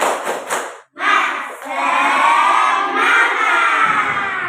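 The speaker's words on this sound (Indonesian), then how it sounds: "mari kita tepuk semangat dulu" Schoolchildren in a classroom perform the tepuk semangat clapping chant, a brief shout and then a loud, sustained burst of group voices and clapping that fills most of the clip.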